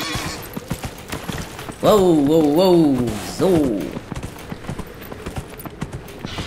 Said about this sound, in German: dann reiten wir ein Stückchen mit dem Sumpfeinhorn.